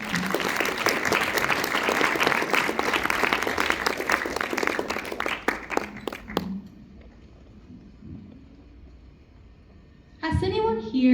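A TED-Ed audience applauds to welcome a speaker to the stage, a dense, steady clapping that fades out partway through, followed by near quiet and then a voice.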